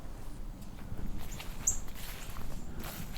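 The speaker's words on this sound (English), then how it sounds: "It's a northern cardinal call." A single sharp, high chip of a northern cardinal rings out once midway, fairly close and clear, over a low outdoor rumble and rustling footsteps at an autumn migration spot full of white-throated sparrows.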